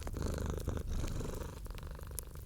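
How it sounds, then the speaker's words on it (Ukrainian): A cat purrs steadily up close, a soft rumbling drone with faint rustles. "Чуйте, як він мурчить"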